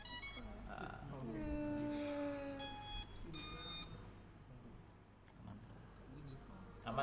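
A drone being assembled gives short, bright electronic beeps, two clear bursts in the middle with a faint one at the start, close by, with a descending tonal chime before them and quiet talk around.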